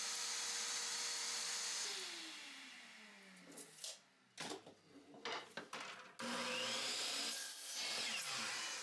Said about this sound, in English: The 1x2s are cut to length